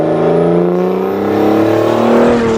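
A Grumman post van with an aluminium body and a 370 bhp engine cruises along, its engine a loud, steady, close drone that climbs slightly in pitch as it pulls.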